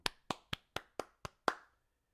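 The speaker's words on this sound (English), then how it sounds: "Let's give Ian a huge round of applause." Seven crisp, evenly spaced hand claps from a single nearby person at a Rap Camp Showcase summer program, each sharp and isolated against silence.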